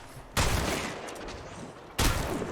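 Gunfire in the mobile shooter Apex Legends Mobile comes as two loud, close bursts of rapid shots, the second following after a short pause, with no talking.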